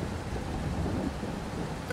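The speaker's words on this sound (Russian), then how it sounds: "Тут еще дождик пошел." Steady rain with a low thunder rumble in Farming Simulator 22, heard during field cultivation with a T-150K tractor, a constant broadband wash at moderate level with no talk over it.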